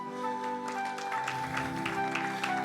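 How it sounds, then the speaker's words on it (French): A church congregation at a French-language Sunday service applauds, fairly soft clapping heard against a sustained tonal background of music or organ-like hum. "Est-ce qu'on peut applaudir?"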